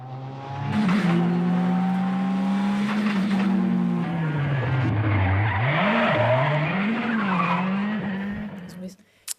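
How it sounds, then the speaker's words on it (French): Loud 600-horsepower cars roar close by with rising and falling engine pitch, and tires squeal and skid through several swooping slides before a sudden cut near the end. "on vous laisse écouter ronronner ces moteurs"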